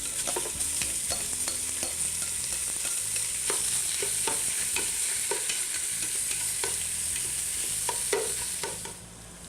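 Pork hits hot oil in a large stock pot and sears with a steady, bright sizzle, broken by scattered clicks and scrapes of stirring.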